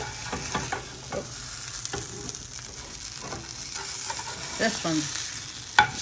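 Protein pancakes sizzle in a hot pan while a spatula scrapes and flips them, with several clattering strokes and a sharp knock near the end. A voice speaks briefly.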